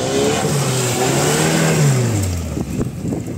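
A Lada Niva engine revs hard while the car is stuck, a loud continuous roar with rising and falling pitch that drops toward the end, close and alone with no talk.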